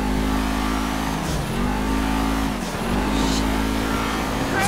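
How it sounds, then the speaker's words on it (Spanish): A 2017 Camaro ZL1 engine in GTA 5 revs loud and steady, its pitch rising and dipping as it accelerates, with no speech. "Escuchen ese motor,"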